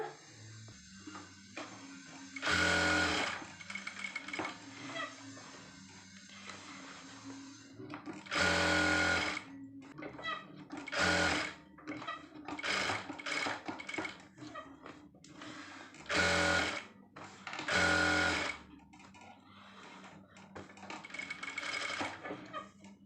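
A sewing machine runs in short bursts while stitching a blouse lining to the main cloth. The loud whirring runs separate from each other by quieter pauses with handling noises.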